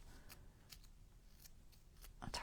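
Several quick, crisp scissor snips, close but quiet, spaced irregularly, each a short sharp cut through paper to mimic a torn edge.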